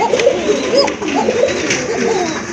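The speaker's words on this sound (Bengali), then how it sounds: "খুবই ভালো মানের কবুতর, কোয়ালিটি ফুল কবুতর, খুব ভালো ডাকে" Pigeons kept for sale cooing close by, several overlapping rolling coos that repeat steadily throughout.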